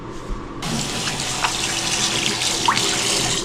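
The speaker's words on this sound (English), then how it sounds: "Rinse them off." Tap water runs steadily into a sink while someone rinses off after a night skincare routine with organic castor oil. The splashing begins abruptly and stays loud and even, with a few brief louder spurts.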